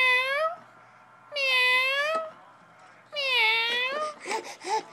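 A person mimics a cat's meow for a six-month-old baby, voicing three drawn-out, harmonic meows in a row, with a softer babbling vocal sound at the end.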